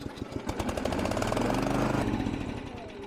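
An Iksan ILM-500 remote-controlled weeder's small engine sputters to life after a pull start, quickly settling into a loud, steady close-up drone.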